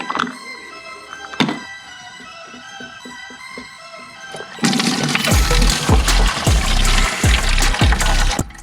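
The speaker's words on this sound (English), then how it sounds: "Can't drain coolant without spilling it." Coolant draining from a Ford Fiesta engine with a blown head gasket, a thin trickle with a sharp clank early on, then a loud, close, steady gush of liquid spilling and splashing.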